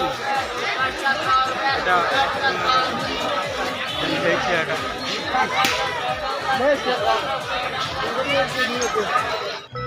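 At the Rath Yatra chariot festival, a dense crowd chatters all around, with many overlapping voices close by and occasional claps and slaps in an unbroken babble.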